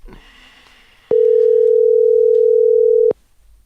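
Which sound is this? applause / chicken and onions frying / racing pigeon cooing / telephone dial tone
telephone dial tone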